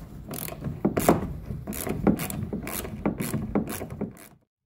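A ratchet unscrewing T25 Torx screws from the rear bumper cover of a VW Sharan 7N, quick repeated clicking bursts with rubbing and mechanical ticks, close and moderately loud, with no talk.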